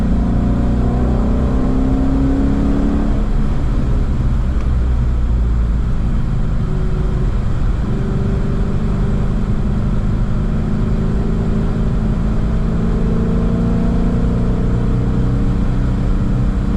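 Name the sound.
car engine revving with exhaust valves open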